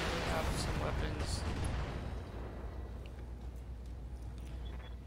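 Weapons fire and explosions in the BattleTech game on impossible mode, dense rumbling booms and blasts, loudest in the first two seconds, then settling into a steady low roar.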